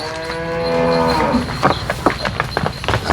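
A dairy cow at a Dinajpur cattle market lets out a long, drawn-out moo at moderate volume, followed by scattered clatter and bumps from the busy market around it.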